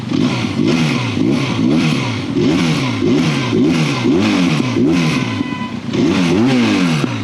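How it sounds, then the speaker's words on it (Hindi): A Benelli 502C inline two-cylinder motorcycle engine revs repeatedly, its pitch rising and falling in steady waves, loud and close with a throaty mechanical tone. "ये इनलाइन 2 सिलेंडर है और इसका साउंड कैसा है"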